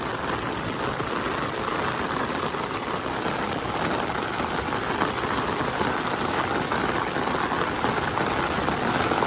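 Heavy rain falls on a farm in a constant, loud roar, drops drumming on surfaces without a break throughout.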